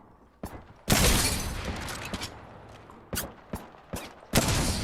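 Weapons fire in Apex Legends comes in sharp bursts: a sustained volley near the start, then several distinct cracks spaced out with quieter gaps between, ending in another burst.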